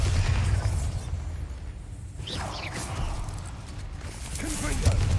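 A Bombarda blasting spell in Hogwarts Legacy goes off with a muffled boom and whooshing debris after a low rumble, moderately loud, under continuous game ambience.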